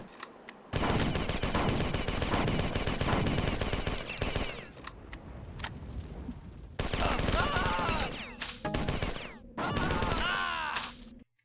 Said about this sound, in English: Hey, he's shooting at us!